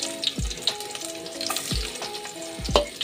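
Garlic sizzles in reused frying oil from fried chicken in a pan, a steady crackling hiss broken by a few stirring scrapes and clunks of the utensil, close and moderately quiet with no talking.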